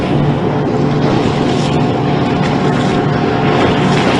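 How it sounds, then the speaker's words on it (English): A steady, loud engine drone fills the whole stretch, the broadband rumble of a motorboat running nearby on Lake Guntersville, Alabama, with no voices. "That's the boat running"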